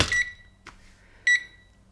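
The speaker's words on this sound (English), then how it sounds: "Okay, timer." Two short bursts of high electronic timer beeps separated by about a second of near silence, loud and close with no speech.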